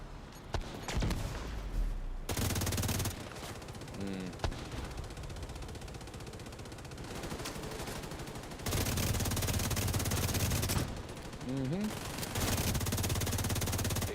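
Bursts of gunfire and sniper shots crackle through The Division 2 combat, repeated loud volleys and sharp cracks alternating with quieter stretches, mixed with game voice chatter.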